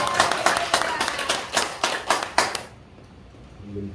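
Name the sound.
congregation clapping in church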